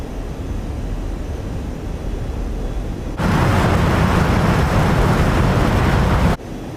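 Su-27 Flanker jet in the DCS combat simulator, a steady broadband engine roar that jumps abruptly louder partway through as thrust builds for takeoff, then drops back, with no voices.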